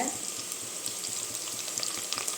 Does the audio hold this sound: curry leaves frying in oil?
yes